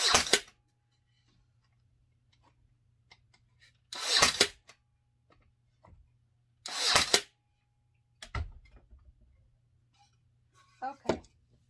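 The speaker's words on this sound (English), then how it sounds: "Let me go ahead and nail the other side." A Ryobi crown nailer fires staples into wood in sharp, loud, separate bursts, about five shots spaced a couple of seconds apart, with a faint low hum between them.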